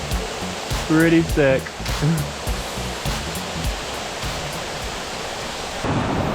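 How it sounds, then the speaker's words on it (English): A big waterfall called Escalera, heard as a steady, loud rushing roar of falling water, with a voice briefly speaking over it early on. "There's a little waterfall. But wait, there's the big one."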